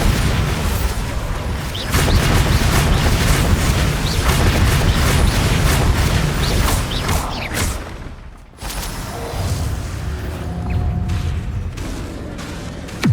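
Spell explosions from Bombarda and Confringo in the Hogwarts Legacy video game, heard as a dense, loud run of booming blasts and whooshing bursts with a brief lull midway, then more impacts.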